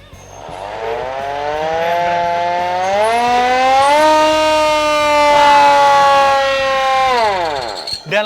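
A manual siren on a 1971 fire truck winds up to a loud, sustained wail, holds and rises slightly in pitch, then winds down near the end, close and dominant with no talk.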